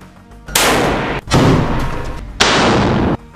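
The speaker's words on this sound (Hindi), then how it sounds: "सामने से भाग रहे इजरायली सैनिकों पर ताबड़तोड़ फायरिंग कर देता है" Rapid rifle fire in a war zone, with several sustained bursts of loud, close shots separated by brief pauses, and no voices.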